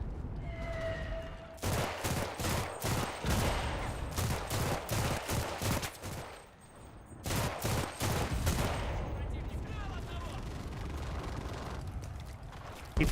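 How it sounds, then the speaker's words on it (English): 50-kilogram bombs and gunfire in Enlisted, a dense rapid barrage of sharp bursts and rumbling blasts in two long volleys, fairly close, with a quieter lull between them. "A lot of 50-kilogram bombs."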